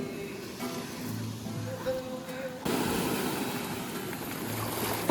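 Surf breaks on a beach in Algiers, heard as a steady broadband wash that turns louder and fuller about halfway through, with low rumbling undertones and no talking.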